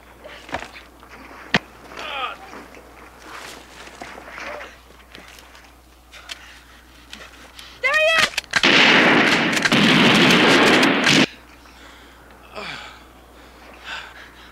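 Gunshots in the action movie Malibu Express: sharp isolated shots early on, then a loud sustained burst of gunfire and blasts in the middle, with breathy vocal sounds and brief movie dialogue around it.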